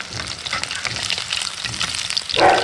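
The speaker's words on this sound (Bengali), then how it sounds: "কাতলা মাছ ভাজা হচ্ছে" Katla fish frying in hot oil gives a loud, continuous crackling sizzle at close range, swelling briefly near the end, with no voices.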